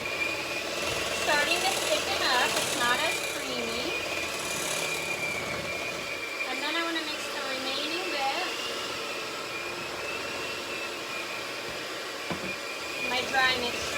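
Cookie dough being mixed with an electric mixer whines steadily at a constant pitch, with the motor tone wavering as the beaters work, while a voice talks over it intermittently.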